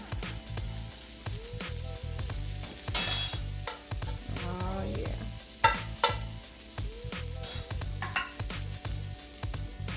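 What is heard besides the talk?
pancake frying in margarine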